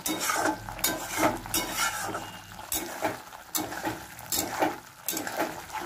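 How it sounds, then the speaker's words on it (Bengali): Spice paste for chicken kasha, seasoned with salt and a little sugar, frying in a pan while a spoon scrapes and stirs it in steady, repeated strokes over a soft sizzle. "এই মশলাটা একটু কষিয়ে নেবো ভালো করে"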